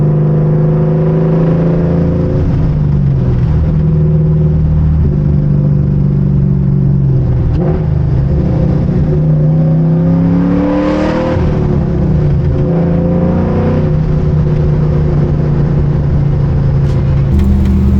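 An LS3-swapped 1969 Camaro fitted with Corvette Z06 and Ford parts, driving with a steady, loud V8 drone that rises and falls through several rev swells, with no talking over it.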